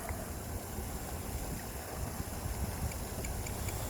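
A small RC water bobber boat with water cooling runs its motor at full throttle, giving a steady, loud broadband rush and hum with water spray, continuous and alone throughout.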